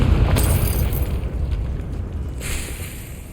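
A Confringo spell explodes in Hogwarts Legacy, one loud, close blast whose rumbling roar fades steadily over about three seconds, with a brief crackle near the end.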